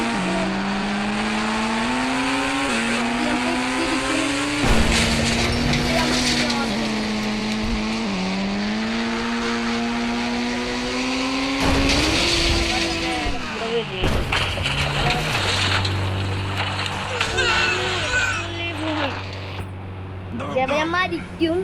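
A vehicle drives in a glitchy video game, its engine humming loud and continuously with pitch climbing and dropping through gear-like shifts, plus a few sharp bumps and skids toward the end.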